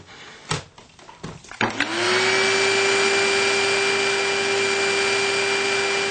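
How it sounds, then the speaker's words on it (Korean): A household vacuum cleaner switches on during house cleaning after a few knocks and clatters, then runs with a loud, steady whine and roar that holds without a break. "청소기를 돌리고"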